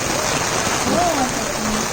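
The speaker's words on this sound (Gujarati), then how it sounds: "અહીંયા પાણી જોરદાર વરસાદ" Heavy monsoon rain pours down in a downpour of about 14 inches in a day, making a steady, dense hiss with no breaks, while a faint voice sounds briefly underneath.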